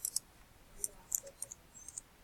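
Soft, sparse clicks and light taps come from a computer keyboard as a search is typed, heard close but faint, in irregular bursts with quiet gaps and no talking.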